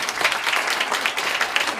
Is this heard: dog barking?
no